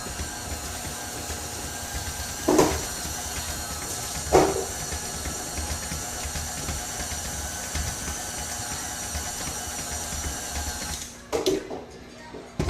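An electric stand mixer churning sugar cookie dough with a steady whirring drone, a couple of sharp knocks along the way, and talk over it near the end.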